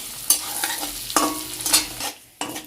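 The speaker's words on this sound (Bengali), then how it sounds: "ভাজাভুজির তেলেই বন্ধুরা একটুখানি কালো জিরে ফোড়ন দিয়েছি" Black cumin seeds tempering in hot frying oil crackle and sizzle close up, with a few sharp spatula scrapes against the pan in a short burst.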